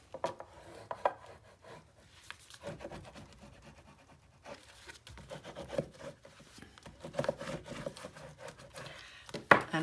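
Paper being burnished by hand on a 9 x 9 mini album page, Christmas Nutcracker-themed papers: soft scraping and rubbing strokes in irregular bursts, close and fairly quiet, with a few sharper taps near the end.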